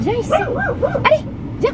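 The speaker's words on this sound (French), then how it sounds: "Oh c'est un chien, j'avais dit qu'il n'y a pas de chien." A dog gives a few short yips and whimpering barks close by in a home, heard under a woman calling it over in French.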